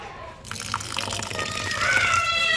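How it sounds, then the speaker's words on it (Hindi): Rice for khichuri being washed by hand in water, a close, continuous swishing and sloshing of grains and liquid that grows slightly louder toward the end. "तो चावलों को अब धो लेते हैं"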